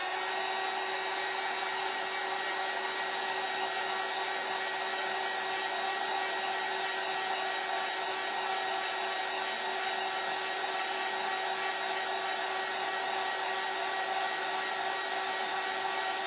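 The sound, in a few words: dryer blowing to dry painted craft door hanger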